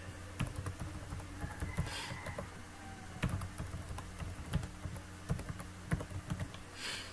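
Someone types a password on a computer keyboard: quiet, irregular keystrokes tap in short bursts, alone with no talking.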